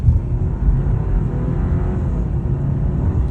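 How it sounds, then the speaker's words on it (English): A 2025 BMW 530i on the road, heard from inside: a smooth, steady low engine and road rumble with light whir, loud and continuous with no talking. "It's a really smooth powertrain."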